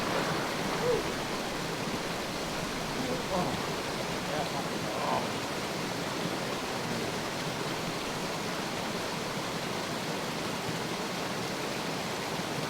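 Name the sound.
small waterfall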